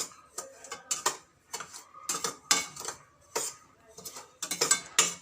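Semolina (suji) roasts dry in a pan on low heat for lauki idli, with a spoon scraping and clinking against the metal in irregular taps and stirring strokes, fairly faint, with no talk.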